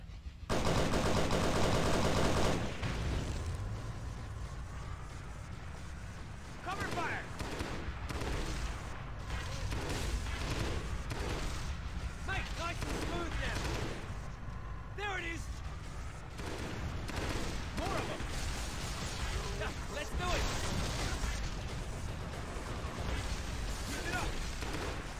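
Sustained automatic gunfire and scattered shots in the video game Halo SPV3.3, dense bursts over a loud battle soundscape, with a voice shouting commands amid the shooting.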